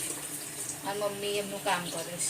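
Water runs steadily from a tap at home as a constant hiss, with someone talking over it.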